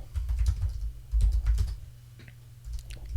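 Fingers typing on a computer keyboard, a quick run of close, crisp key clicks in irregular bursts with short pauses and no voices.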